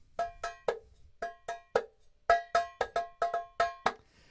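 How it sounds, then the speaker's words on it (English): A coffee can is struck as a found-sound drum, giving sharp, bright metallic hits like a cowbell, played in a quick uneven rhythm of about fifteen strokes, close and clear with no talk. "I found a coffee can."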